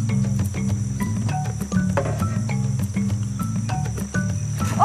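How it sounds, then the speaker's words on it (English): Jungle crickets chirp steadily in a forest in Gabon, a dense continuous high buzz with rapid repeated pulses layered over a low hum. "First, they need to catch the bait, jungle crickets."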